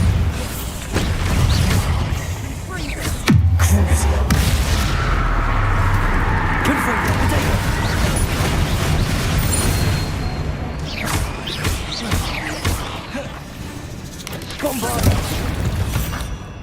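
A Bombarda explosive spell is cast in Hogwarts Legacy, with a loud booming blast and rumbling crash, then mechanical whirs and debris sounds over a steady game soundscape.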